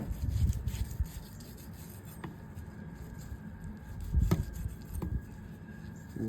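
A knife trims a raw brisket, making quiet rubbing and scraping strokes with a few sharp little clicks, close by and with no talking.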